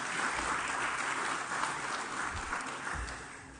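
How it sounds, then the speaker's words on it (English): Applause from an audience at a presentation event, a broad steady wash of distant clapping that holds at an even level before it begins to thin. "Let's get a round of applause for them."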